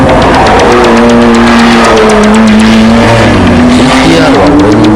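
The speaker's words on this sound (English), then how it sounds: "Keiichi Tsuchiya was chosen to drive the Skyline GTR in the All Japan Touring Car Series." Nissan Skyline GT-R touring car in the All Japan Touring Car Series, engine loud and close with a rising and falling whine as it shifts and accelerates, mixed with commentary talk.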